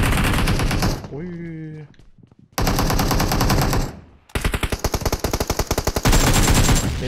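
An AKM rifle in PUBG Mobile rips out loud bursts of rapid automatic fire, with a brief tonal, voice-like sound in one short gap before the shooting resumes in fast, close, repeated volleys.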